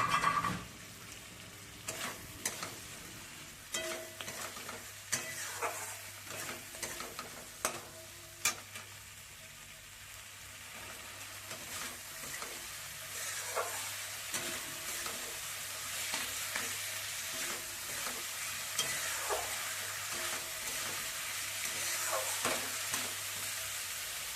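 Fried potatoes and cauliflower stirred with koi and rohu fish in a sizzling pan, a constant quiet frying hiss with repeated scraping and spatula strokes throughout.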